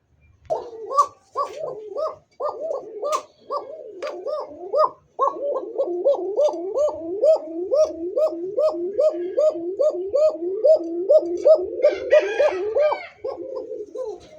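A pigeon coos in a rapid, repeated rhythmic series, close and clear, with a few short pauses and brief human voices in between.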